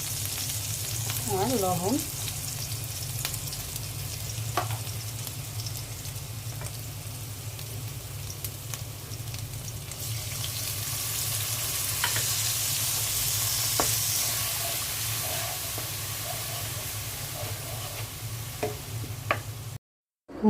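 Spices with ginger-garlic paste, turmeric, dried chilli and cumin fry steadily in hot oil in a pan, a continuous close sizzle with faint scraping as they are stirred, and a brief spoken phrase near the start.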